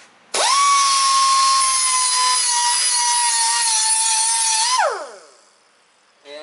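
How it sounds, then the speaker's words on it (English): A cutoff wheel grinds metal in one sustained, loud, high-pitched whine of about four and a half seconds, then winds down as the wheel spins to a stop. "back to the cutoff wheel"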